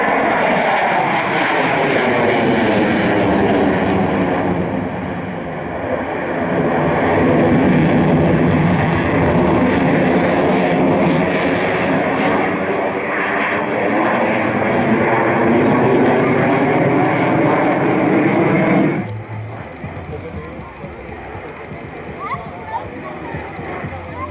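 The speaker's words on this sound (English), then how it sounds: "Here comes that afterburner." A jet aircraft roars with afterburner at an evening airshow with pyrotechnics, a loud sustained thunderous rumble that swells and shifts pitch as it passes, then cuts off abruptly near the end, leaving a quieter distant background with voices.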